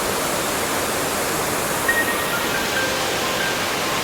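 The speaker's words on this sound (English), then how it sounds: "there's a waterfall down here" Dess Waterfall in Aberdeenshire, Scotland gives off a steady, even rushing roar of falling water, close and constant with no voices.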